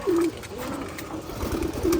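Pet pigeons coo close by, one soft throaty coo at the start and another near the end, over a low steady background hum.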